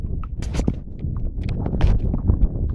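An Icelandic horse named Frigg walks in Iceland with a rider, its hooves clip-clopping close and steady in a quick rhythm.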